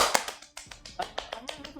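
A run of sharp hand claps and taps, close and quick, about eight to ten irregular smacks in under two seconds.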